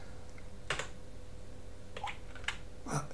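A computer keyboard pressed for a Ctrl-C copy gives four or five separate crisp key clicks, spaced irregularly, close and quiet against a faint background.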